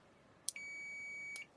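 A Dyson HD07 Supersonic hair dryer gives a single steady electronic beep after a click as it is switched on. The tone is faint, holds for about a second and then stops.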